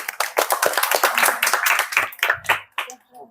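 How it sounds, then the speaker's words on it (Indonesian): Hands clap together in a group greeting someone at a scout gathering, a brisk run of fairly loud claps that goes on for a few seconds and then thins out into scattered claps. "Tepuk tangan Tasnim."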